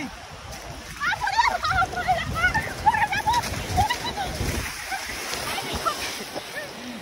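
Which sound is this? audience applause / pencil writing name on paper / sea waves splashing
sea waves splashing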